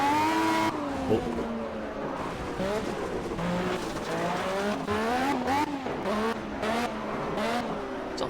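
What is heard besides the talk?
race car driving down the pit lane in Project CARS video game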